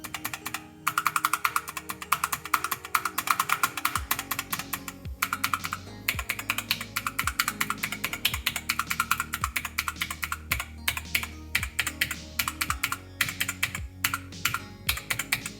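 New buttons on a Snack Box Micro controller being pressed: rapid, continuous clicky tapping close to the mic, fast and irregular like typing, with no talk.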